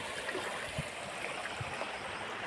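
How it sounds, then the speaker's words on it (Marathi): Floodwater from a cloudburst in Kopargaon taluka flows through soybean and fodder fields, making a soft, continuous rushing wash heard at a distance with no voices. "हा पाण्याचा प्रवाह शेतातून दिसत आहे"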